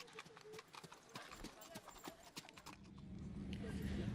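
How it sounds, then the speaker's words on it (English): Horses at an endurance riding event walk on a hard surface nearby, their hooves clip-clopping in an irregular steady rhythm, followed by a rising wash of wind or background noise. "obviously we've got quite a few horses coming and going"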